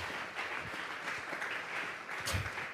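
A church congregation at a Tuesday Bible study applauds together, a soft, steady wash of clapping heard from some distance with no voices over it.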